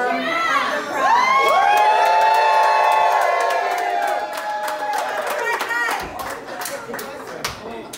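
A crowd at a craft beer event cheering a toast, loud sustained whoops and shouts swelling for several seconds before tapering into scattered claps and calls near the end.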